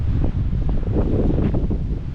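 Strong wind buffets the microphone at a scenic viewpoint near Heart Lake, in rough, rumbling gusts, a loud low roar that swells and dips without letting up.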